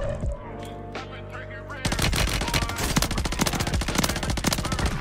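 A BP50 SMG fires in a Rebirth Island match of a video game. A few quiet shots come first, then loud sustained automatic bursts fire at a rapid, even rhythm for several seconds.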